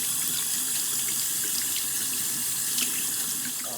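Tap water runs steadily from a faucet into a sink while a household plumbing system with hot water crossing into the cold side is bled out, a constant splashing hiss heard close with no voices.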